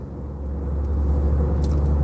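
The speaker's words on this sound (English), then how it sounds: "That's a big truck, man. Got them big pipes up there." A semi truck with big exhaust stacks rumbles past on an expressway, a deep steady roar building slightly over two seconds with constant road noise.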